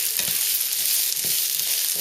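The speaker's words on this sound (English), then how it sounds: "just add that in and stir fry that around, just again until it changes a little bit of color" Asparagus stalks stir-fry in a pan with a bright, steady hiss of sizzling oil, broken by a few soft scrapes of stirring, close and without talk.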